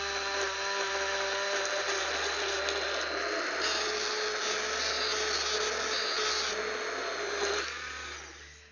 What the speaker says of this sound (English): This is a stick blender, and it combines. Sorry if that's too loud.